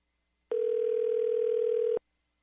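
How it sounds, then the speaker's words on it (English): Steady telephone dial tone lasting about a second and a half, a clean continuous hum that starts and stops abruptly, loud and alone. "for his phone number, you just have to dial 3 numbers and it goes straight to him"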